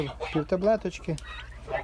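Bronze turkeys cluck and gobble in short, close bursts with a few brief pauses between calls.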